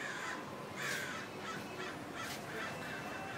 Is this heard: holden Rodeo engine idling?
no